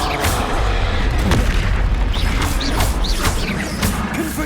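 Explosions from a fiery blasting spell in the Hogwarts Legacy video game, loud booming hits over a continuous roar of battle noise, with several sharp whooshing cracks spread across the stretch.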